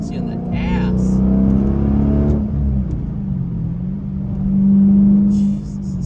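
A 2009 Dodge Challenger SRT with a manual transmission accelerates hard, its heavy exhaust rumble rising through the revs, breaking at a shift, then building again loud and close from the cabin.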